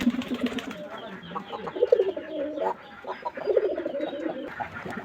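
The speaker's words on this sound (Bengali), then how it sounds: "এই যে নর কবুতরটা যেটা বাঁচতেছে, এই কবুতরটার বয়স 3 মাস পার হয়েছে।" Pigeons, including a three-month-old male, coo repeatedly in low, throaty rolling calls, close by, with soft overlapping bursts and some faint background chatter.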